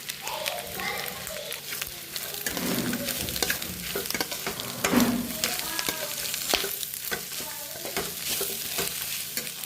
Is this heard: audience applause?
no